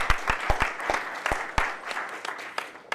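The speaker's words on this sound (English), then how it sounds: "Let's give him a round of applause" Audience applause at a creative leadership symposium, starting with a few sharp, separate claps that spread into a brief, moderately loud round from a small crowd.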